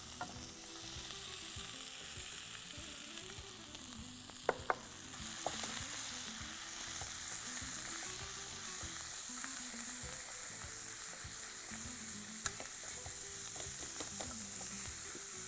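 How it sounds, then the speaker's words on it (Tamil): Minced meat frying in a pan with mint and coriander leaves, a steady soft sizzle with occasional stirring scrapes and clicks, no talk. "கொத்துக்கறியை போட்டுருவோம்."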